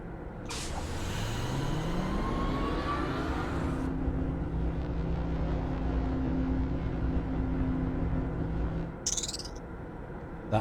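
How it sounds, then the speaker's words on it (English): Rising chirp sweeps from the maze car in the Myst Selenitic Age on Xbox, a gliding electronic tone over a constant low drone, followed near the end by a brief bright burst. "That is the chirp noise"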